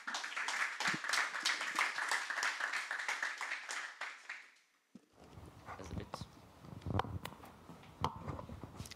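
Audience applause greets the next pitch speaker at a Toulouse rugby World Cup 2023 innovation challenge pitch event, a dense run of claps lasting about four seconds before dying away into room noise and shuffling.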